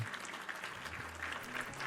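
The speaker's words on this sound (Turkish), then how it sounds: "Alkış." A burst of clapping from a small crowd in the video game RimWorld, dense and steady, heard at a low level with game-like tones faintly underneath.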